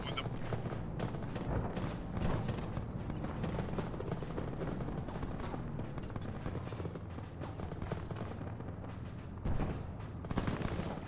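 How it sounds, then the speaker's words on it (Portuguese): Dense, continuous bursts of automatic gunfire and scattered shots from a military video game, rattling steadily without pause and fairly loud throughout. "Continua a receber tiro de lá de cima."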